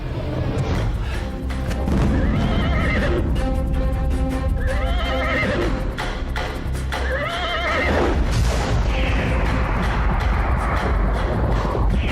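Horses whinny loudly several times in succession over a constant rumble of galloping hooves, with a few heavy thuds in a dramatic chase scene.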